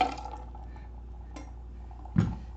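A shaken Mai Tai cocktail is dumped into a Tiki mug, giving a short splashy pour with an ice clatter about two seconds in. It is close and brief, over a quiet, steady background hum.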